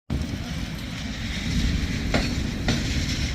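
A train in Belgrado, Serbia rumbles steadily up close, a broad continuous rail roar with a couple of brief higher squeal-like streaks, and no voices over it.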